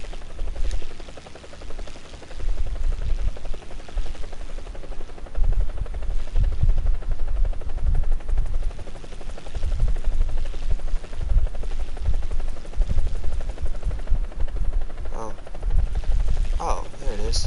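A helicopter flies in the video game War Thunder, a steady, dense rotor and engine rumble that runs throughout, with scattered sharper bursts that suggest gunfire.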